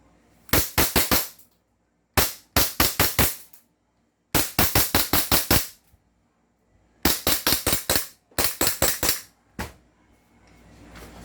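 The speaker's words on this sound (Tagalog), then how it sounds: "Glock GP 1799, firing!" Airsoft Glock GP1799 gas pistol firing in quick clusters of five or six sharp cracks, separated by short silences, loud and close.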